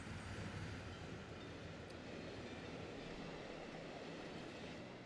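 Trains rolling along a coastal line in Transport Fever 2 make a steady, dense rumble of wheels on rails, continuous and moderately distant, with no distinct clacks standing out.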